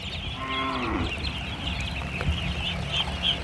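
Khaki Campbell ducks on a farm of about 1500 birds make a dense, steady chorus of quacking, with one longer drawn-out call near the start.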